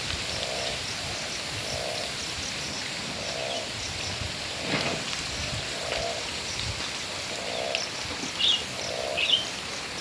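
Rain falls steadily in a constant hiss, with a few brief chirps and faint soft thuds scattered throughout.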